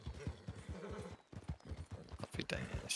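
Horse hooves clip-clop in a steady trot in the video game Red Dead Redemption, with a faint whinny, running beneath continuous talk.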